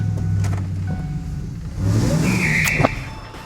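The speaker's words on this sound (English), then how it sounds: "stab the throttle, and this truck literally throws you back in the seat" A Ford Stage 3 supercharged pickup truck accelerates hard, its engine droning steadily before surging louder with a rising whine as the throttle is stabbed, close and strong with no talk.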